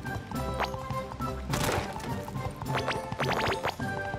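Horse hooves clip-clop in SpongeBob The Cosmic Shake while the horse is ridden through the Medieval Sulfur Fields, a steady trotting patter under game music with a whinny-like tone and a brief crash midway.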